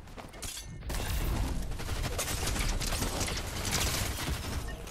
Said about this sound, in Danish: du bruger rigtig mange skud